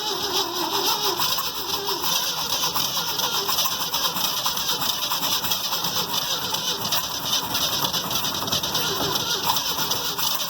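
New Holland 1400 combine engine cranking and trying to catch after an engine repair and spark plug wire fix, a steady dense mechanical drone running unbroken and fairly loud, with faint voices underneath.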